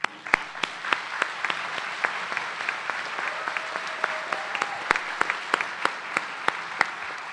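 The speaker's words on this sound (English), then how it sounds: "Please join me in extending a round of applause" A crowd at the UTMB John Sealy School of Medicine commencement claps steadily, a dense wash of applause with scattered louder individual claps, continuous throughout and fairly distant in a large hall.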